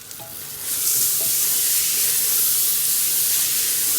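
Washed and drained jeerakasala rice goes into a pan of butter for garlic butter rice and is stirred, starting with soft scraping and rising within a second to a loud, steady sizzle that continues without speech.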